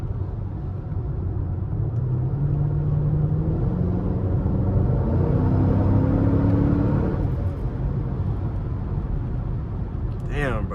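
A 5th generation Chevrolet Camaro SS drives in the rain, its V8 giving a loud, steady rumbling drone that rises in pitch as it accelerates, heard from inside the car with someone speaking briefly near the end.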